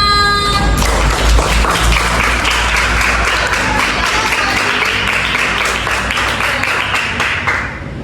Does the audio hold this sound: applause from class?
yes